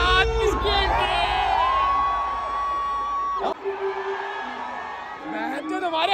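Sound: crowd cheering and shouting at concert

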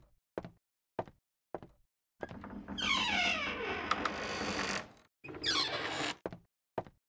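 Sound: door opening in the video game Emily Wants To Play

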